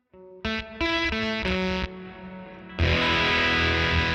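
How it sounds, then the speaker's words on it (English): Electric guitar through a JHS Kilt fuzz pedal set for a voltage-starved fuzz: several distorted notes in a row, then a thick sustained chord, loud and alone. "It's like a voltage-starved fuzz."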